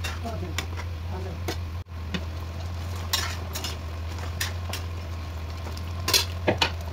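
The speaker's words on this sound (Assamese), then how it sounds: "এয়া মাছৰুমখিনি দি দিছোঁ।" Mushrooms go into gravy in a cooking pot on a stove, making soft clinks and scraping stirs with a gentle simmer and a low steady hum underneath; a few sharper utensil knocks come near the end.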